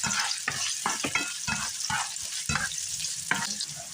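Onions frying in a pan for sweet Filipino-style spaghetti, a constant sizzle with regular spatula stirring strokes roughly every half second, close and fairly loud.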